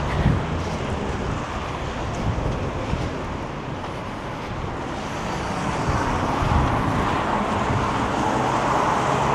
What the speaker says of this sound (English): it is very, very windy